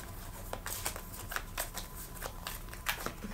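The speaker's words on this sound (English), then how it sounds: "Gotta shuffle these again." A deck of cards is shuffled by hand, quick riffles and soft slaps in irregular bursts, close and fairly quiet, with no talking.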